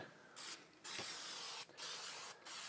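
Short bursts of aerosol spray hiss in quick succession, close up, separated by brief pauses, with faint clicks between them, as a spray can coats a canvas.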